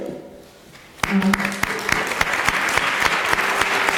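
Audience applause breaks out at a New Jersey congressional candidate forum as volunteers are recognised, beginning abruptly after a quiet second and continuing as steady, dense clapping with sharp individual claps standing out.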